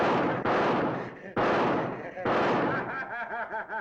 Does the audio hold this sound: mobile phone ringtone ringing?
no